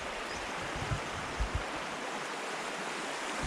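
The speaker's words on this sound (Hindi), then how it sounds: "आज देखिए वही नदी का पानी अब फिर से कहां पहुंच गया है।" A mountain river in the Silor valley flows after the first monsoon rain, giving a steady, even rushing hiss of water, moderately faint and continuous, with no voices.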